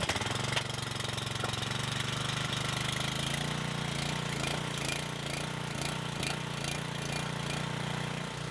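Champion power equipment engine running steadily with a low, continuous rumble and faint knocking, close and loud throughout, with no voices.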